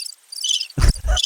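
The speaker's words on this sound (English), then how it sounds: "Crickets." A crickets chirping sound effect, played as a joke: high, bright cricket chirps in quick bursts, loud and close, with a couple of thudding low knocks near the end.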